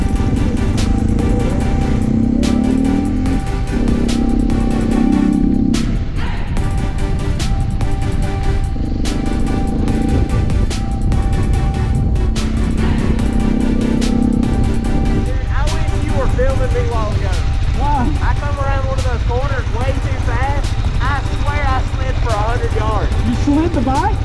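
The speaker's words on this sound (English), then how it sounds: "Listen to the bike." A dirt bike engine labours and revs as it climbs a hill near a creek, loud and continuous throughout, with voices talking over it.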